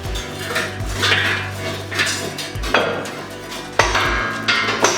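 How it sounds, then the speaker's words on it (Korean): Repeated heavy metallic clangs of a sledgehammer striking a steel beam base plate during structural reinforcement, irregularly spaced with ringing resonance between blows. "베이스판 위치를 슬래지해머를 사용해 맞춰줍니다"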